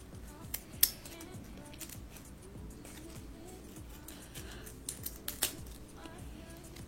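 Scissors snip wig lace during an install, small sharp cuts scattered over a soft background with a few brighter clicks standing out, close and fairly quiet.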